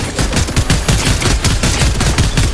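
Rapid automatic turret gunfire in Fortnite, a loud, dense stream of shots rattling on without pause, close and dominant with no voices over it.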